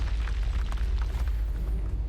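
A Confringo spell explosion from a wizarding video game lands as a deep, rumbling boom with scattered crackling bursts, low and sustained for a couple of seconds.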